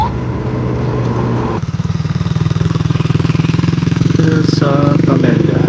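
An engine putters steadily and close by on a rural road, its pulsing idle-like rhythm continuing throughout, while faint voices and other traffic sounds mingle in the background.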